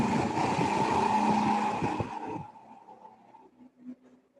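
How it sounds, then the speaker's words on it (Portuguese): A passing car outside during a classroom lesson, its broad engine and tyre rumble loud at first, then falling away after about two seconds to a faint tail, with no talk over it. "tem um barulho de carro aqui passando"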